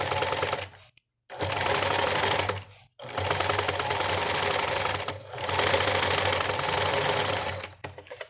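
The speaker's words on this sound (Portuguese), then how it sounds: "E aí é só seguir costurando." A sewing machine stitches satin lingerie fabric in several loud, rapid bursts of mechanical chatter, separated by brief pauses, with no talking.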